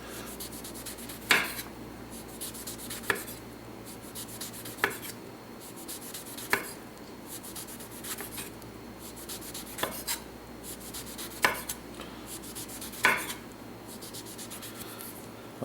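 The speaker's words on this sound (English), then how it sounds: "we're going to go around the orange with the knife, and I start with removing all this extra pith and all the peel" A knife works around a Cara Cara orange, removing the thick peel and pith with a soft, steady rubbing scrape, punctuated every second or two by small sharp clicks of the blade, close and quiet.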